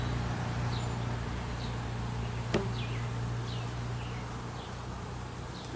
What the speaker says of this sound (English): This is definitely a good box of bees.